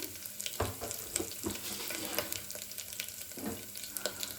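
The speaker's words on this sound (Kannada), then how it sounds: "ಕಡಲೆಬೇಳೆ ಇದಿಷ್ಟು ಹಾಕಿ ನೀಟಾಗಿ ಫ್ರೈ ಆಗಬೇಕು. ಇವಾಗ ಇದು ನೀಟಾಗಿ ಫ್ರೈ ಆಗ್ತಾ ಇದೆ" Chana dal frying in a pan, a soft continuous sizzle broken by occasional stirring scrapes and clicks, fairly quiet and close, with no talking.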